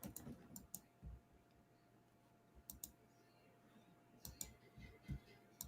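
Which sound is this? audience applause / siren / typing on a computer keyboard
typing on a computer keyboard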